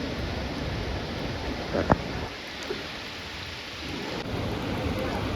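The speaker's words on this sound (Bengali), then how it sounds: "বাড়িতে আসার পর অনেক জোর বৃষ্টি শুরু হয়ে গেছে, জানি না বৃষ্টিটা বোঝা যাচ্ছে কিনা" Heavy rain falls steadily around a house, a dense continuous wash of noise with one sharp knock partway through and no talking.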